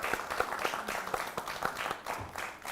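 An audience claps for event participants at a climate justice mini-fest, a brief spell of steady, moderately close applause from a modest crowd.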